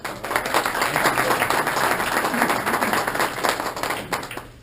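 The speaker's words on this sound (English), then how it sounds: "give a warm applause for Leo" Applause from the audience at a Rotary Club meeting, a steady wash of many hands clapping that holds for several seconds before thinning out near the end.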